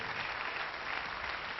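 Applause from a French television studio audience during a game show, dense steady clapping filling a short stretch with no voices.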